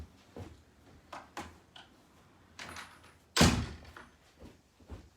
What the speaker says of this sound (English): I'm just going to shut my door and I'm coming straight back.